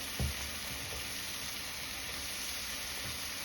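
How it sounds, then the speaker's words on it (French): Courgettes go into a pan of softened onions in olive oil, giving a steady, faint hiss of frying with a brief soft thump as they land early on. "une fois que mes oignons sont bien revenus, je vais rajouter mes courgettes"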